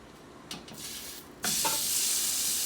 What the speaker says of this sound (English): That's what we want to hear. It's nice. It's a nice sear.